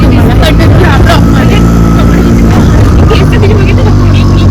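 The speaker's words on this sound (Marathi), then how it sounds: "रिक्षामध्ये बसलोय" Loud, steady engine drone and road rumble from inside a moving auto rickshaw carrying a family to a wedding, with wind noise and voices chatting over the motor.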